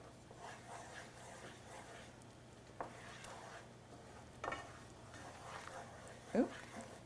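Thai curry being stirred in a pan, with faint intermittent scraping strokes and a low sizzle under quiet talk.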